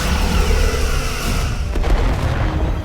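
Starship weapons fire during a space battle in the game Star Trek Resurgence, a dense rumbling barrage of booms and blasts that stays loud and continuous over about three seconds.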